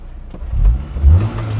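A 2001 Honda S2000 with aftermarket exhaust work gives a couple of short, deep revs that rise and fall within moments, heard close and fairly loud with no talk.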